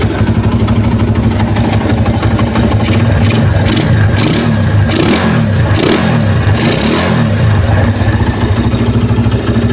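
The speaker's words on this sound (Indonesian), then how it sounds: "Jadi dengan ubahan seperti ini nanti RPM bakal teriak tinggi dan power juga naik, torsi juga naik, dijamin." A tuned engine, modified for higher power and torque, revs repeatedly toward high RPM, loud and close, with rising and falling surges over a rough idle and no speech.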